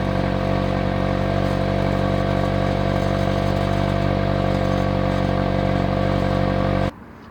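A 2008 Mitsubishi Lancer engine running with its exhaust droning loudly and steadily up close, a dense even rumble that cuts off abruptly near the end.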